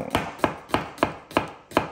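Onion chopped on a board with a thin, patterned kitchen knife: six crisp evenly spaced cuts in quick rhythm, close and clear with no voices.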